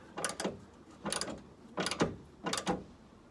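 A bolt on a Porsche 997.1 Carrera 4S rear heat shield is tightened with a ratchet, four quick, evenly spaced bursts of clicking, close and fairly quiet.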